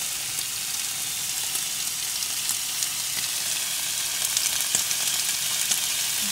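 Fish sizzling and frying in a pan while being basted with sauce, a steady dense crackle with scattered sharper pops, close and alone without talk.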